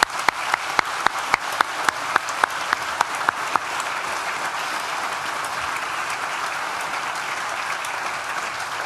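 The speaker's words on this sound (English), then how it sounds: "I think we should give them a round of applause" An audience applauds, starting with a few distinct claps that quickly blend into a steady, sustained wash of clapping from a crowd.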